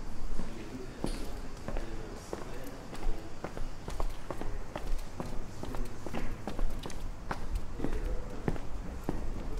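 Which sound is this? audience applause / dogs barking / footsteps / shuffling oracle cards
footsteps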